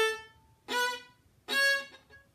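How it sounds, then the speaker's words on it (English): Hooked bowing on a bowed string instrument with all down bows, three separate notes rising in pitch. Each note is sustained and distinctly separated, played close and clear with no talking. "Hooked bowing can also connect notes that are of different pitches."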